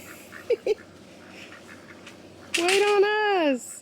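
Ducks quack close by: two short quacks early on, then a louder, drawn-out run of descending calls near the end.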